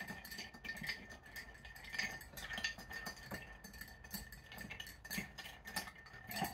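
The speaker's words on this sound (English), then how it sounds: "And so we're gonna give this a good stir." A bar spoon stirs a Set-Up cocktail with Peychaud's bitters in a glass, giving quiet, rapid metallic clinks and rattles in an uneven rhythm, close and soft, with no talking.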